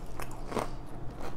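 Crispy Popeyes french fries bitten into up close, giving a sharp crunch in the middle followed by softer crackling chews, with no talking.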